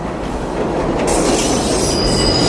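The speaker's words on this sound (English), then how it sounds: "Is he waiting for the train to come by again?" A passing train in a film roars loudly and continuously nearby, with grinding wheel noise and a high metallic squeal rising midway, with no voices over it.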